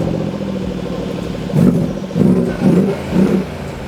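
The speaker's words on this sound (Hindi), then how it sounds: "और ये एग्जॉस्ट काफ़ी लाउड हैं।" Mercedes-Benz G63 AMG 2016 SUV with loud side-exit twin exhausts, a deep engine drone swelling into four short, strong revs in quick succession, close and loud.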